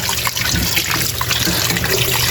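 Water trickles and splashes steadily, close by, draining off pieces of pork meat in a continuous dribble with no talking.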